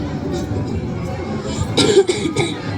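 A few sharp coughs break out near the end, close by, after a stretch of muffled background murmur.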